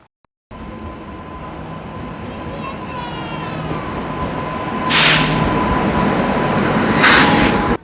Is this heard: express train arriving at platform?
yes